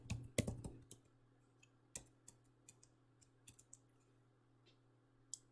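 Computer keyboard keys being typed in short irregular clicks, with a quick cluster at the start and then scattered single taps, close and fairly quiet against a low steady hum.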